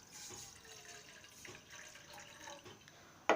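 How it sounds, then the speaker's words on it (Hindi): Water from a glass poured into a cooking pot set on a gas stove, a faint, steady trickle and splash heard close up with no talk. "पानी डाल देंगे"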